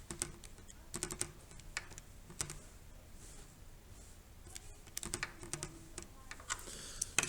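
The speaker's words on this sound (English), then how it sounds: "I can type it into my calculator." Fingers tap out numbers on a calculator while working through a maths question, a quick run of light clicks in short bursts with pauses between, close up and fairly quiet, with no talking.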